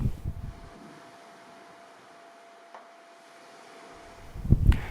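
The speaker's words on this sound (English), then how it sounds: "This is a very windy island, and there's a breeze coming through." Wind blowing across an island on a November day makes a faint, steady airy hiss. Low rumbling gusts buffet the microphone at the start and again, more strongly, at the end.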